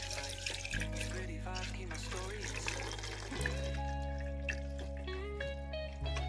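Homemade ghee being poured from a pan, a soft liquid trickle under steady kitchen background hum, faint and close, with no one talking.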